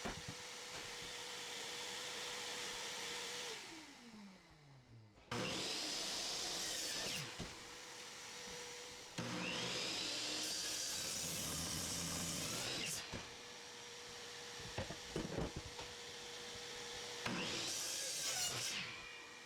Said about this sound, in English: On the miter saw or whatever saw you want, trim off the ends of the seat and the block of wood for the legs